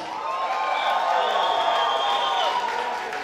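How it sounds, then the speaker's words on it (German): A carnival show crowd applauds and cheers, a steady mass of clapping with whoops and shouted voices rising over it at moderate loudness. "das ist euer Applaus"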